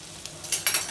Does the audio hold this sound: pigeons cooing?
no